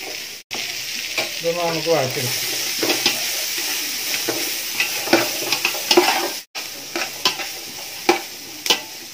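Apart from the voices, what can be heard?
sautéing carrots, beans and capsicum in a pan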